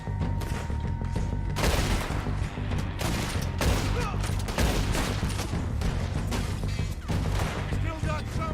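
Gunfire from the video game Red Dead Redemption, a dense run of rapid shots and booms that continues without a break, loud and close, over a steady game soundscape.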